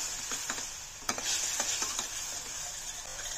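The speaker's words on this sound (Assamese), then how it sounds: "তেলটো ওপৰত অহালৈকে অলপ মছলাখিনি ভাজি ল'ম" Spice masala fries in oil for a climbing fish curry, a soft continuous sizzle under a spatula's scraping strokes across the pan, fairly quiet and close.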